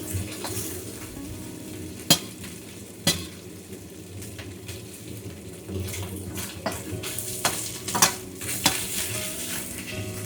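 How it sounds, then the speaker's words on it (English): Pork and mushrooms stir-fry in a wok over medium heat, with a continuous sizzle broken by sharp spatula clacks and scrapes against the pan. "Stir fry over medium heat."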